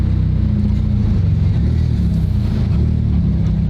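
A McLaren 720GTR Carbon with a low battery gives a steady low engine rumble at close range as it tries to creep forward, the drone holding nearly level throughout without a clear rev.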